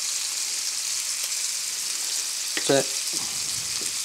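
Elk steaks fry in a pan with a constant close sizzle throughout. Someone briefly speaks over it near the middle.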